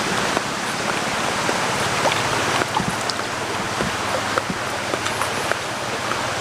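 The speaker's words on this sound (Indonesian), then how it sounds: "karena di belakang kita ini ada sungai" A river flows behind an outdoor cooking spot, a broad continuous wash of rushing water with scattered splashes and droplet ticks, loud and close, with no voices over it.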